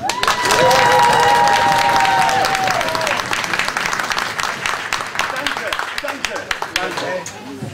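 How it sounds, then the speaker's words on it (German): Thunderous applause and cheering from an audience of participants, parents and friends at an art project presentation, dense clapping with whistles and shouts early on, thinning slightly toward the end. "Und dann gibt es hier so einen donnernden Applaus"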